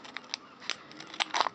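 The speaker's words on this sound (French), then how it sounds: "J'ai pris la paire de ciseaux." Scissors cut open a Pokémon Xerneas box, giving a few faint, quick snips and crinkles close by.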